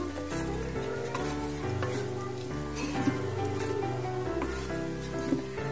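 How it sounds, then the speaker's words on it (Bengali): Peas for ghugni sautéing in a pan, a steady sizzle with stirring scrapes running throughout beneath a constant tonal hum, no talking. "এবারে এটা দিয়ে আমাকে কিছুক্ষণ কষাতে হবে।"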